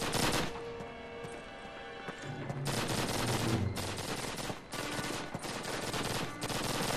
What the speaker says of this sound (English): Well, they're firing over there.